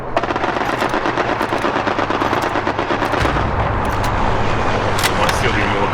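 Rapid bursts of machine gun fire from a World War II battlefield in Hell Let Loose, loud and sustained, with sporadic shots and blasts over a steady rumble while players talk over it.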